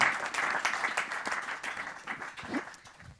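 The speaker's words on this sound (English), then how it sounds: "I think we can give a big applause to our panelists." An audience applauds panelists at a clean-tech investment event, a dense wash of many hands clapping that gradually thins and fades over a few seconds.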